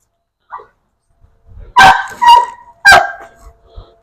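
A new puppy gives a few sharp, close barks and yips in quick bursts with brief pauses between them, loud and clear with no talk over them.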